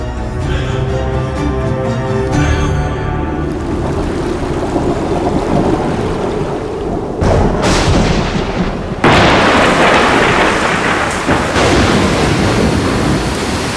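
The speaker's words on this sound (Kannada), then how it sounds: "ಜೋರ್ ಮಳೆ ಬರೋ ತರ ಇದೆಯಪ್ಪ." Heavy thunderstorm in a Kannada film scene: loud rolling thunder booms over a dense, steady wash of pouring rain, with a sharp crack partway through and no voices.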